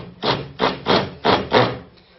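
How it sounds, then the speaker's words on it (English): A hand saw cutting down with the grain of wood for a comb joint, five rasping strokes in a steady back-and-forth rhythm, close and moderately loud with no talking. "you're cutting down with the grain"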